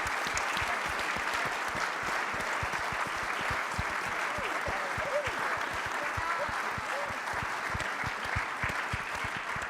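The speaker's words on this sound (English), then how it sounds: "We'd love to give you a round of applause" Sustained, steady applause from a large audience in a room, honoring veterans at a political tour event in Nevada; dense, continuous clapping with a faint crowd murmur throughout.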